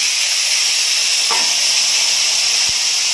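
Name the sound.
yam and potatoes added to hot pan, frying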